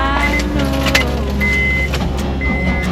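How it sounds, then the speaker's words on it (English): A car engine strains to start on a cold ski day, a sustained whining, labouring drone with rhythmic pulses and faint clicks throughout, close and fairly loud. "the battery of the car was just struggling to start up"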